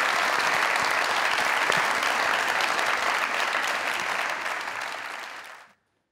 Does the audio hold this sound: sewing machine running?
no